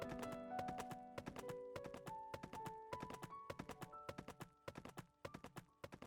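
Horse in the farming video game Pumpkin Days trotting with steady, fairly loud clip-clop hoofbeats, a regular rhythmic patter layered over bright, sustained tonal game music.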